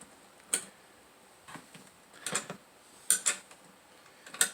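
A cheap wrench turning a bolt while a recumbent magnetic-resistance exercise bike is assembled, giving sharp metallic clicks and ratcheting ticks in short irregular bursts, close and fairly quiet.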